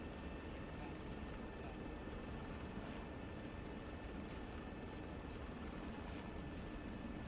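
A military helicopter in a combat video game makes a steady, fairly faint rotor drone with a constant engine whine, unbroken throughout, with muffled radio voices low underneath.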